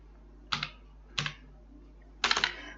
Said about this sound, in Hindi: तो हम टाइप करते हैं आज का ही डेट टाइप करते हैं